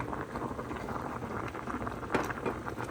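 Pot of noodles boiling in salted water with a little olive oil, a steady close bubbling and popping patter running throughout with no talk.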